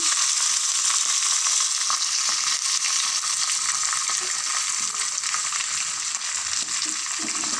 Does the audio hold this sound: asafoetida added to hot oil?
yes